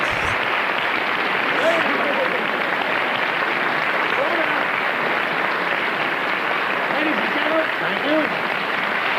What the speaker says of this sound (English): Listen to the applause.